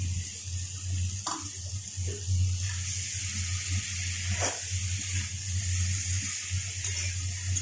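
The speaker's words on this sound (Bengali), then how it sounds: "এখানে আলু কষানো হয়ে গেছে, পটলগুলো দিয়ে দিলাম" Potatoes and pointed gourd fry in a pan with a steady, close sizzle, broken by a couple of sharp clatters from stirring.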